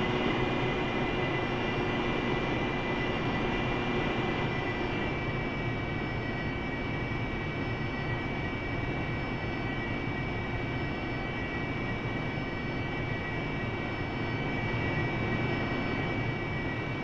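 An AV-8B Harrier jet engine runs at throttle in the DCS flight simulator, a loud steady turbine roar with a high whine that holds constant throughout.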